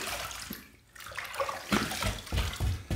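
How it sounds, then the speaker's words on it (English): Water from a tap runs in bursts to rinse a razor and face after a shaving pass, splashing close by with short pauses between surges. "let's rinse"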